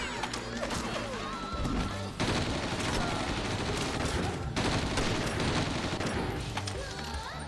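Rapid bursts of gunfire from a newly picked-up gun in the video game Red Steel, loud sustained volleys with machine-gun-like rattling and crashing impacts, continuous across the whole stretch.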